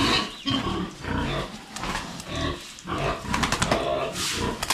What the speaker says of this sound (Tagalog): Ngayon po, 4 na babae na rin yung natira sa ating mga baboy at isang lalaki, isang barako.